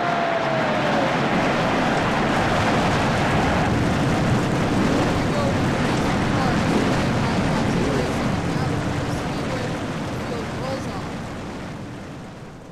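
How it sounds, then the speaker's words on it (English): Many stock car engines roar to life together at the Auto Club track in a NASCAR-style racing video game, a dense, loud, steady rumble that holds for several seconds and then slowly fades. "Drivers, start your engines!"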